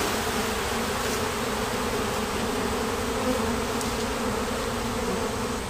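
Honey bees buzz steadily around a hive frame being checked after a honey harvest, a dense, continuous hum close by, filling the whole stretch without voices.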